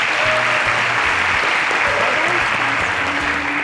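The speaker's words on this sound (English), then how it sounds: "A round of applause for them." Steady applause from an audience fills the whole stretch, dense clapping at an even level, with some voices mixed into the crowd.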